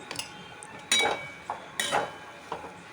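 A utensil scrapes and knocks against a pan while spiced potato filling for aloo paratha is stirred, a few irregular metallic clinks and scrapes, close and fairly quiet.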